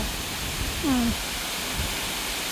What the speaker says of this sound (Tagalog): Ang laki-laki ng falls nila dito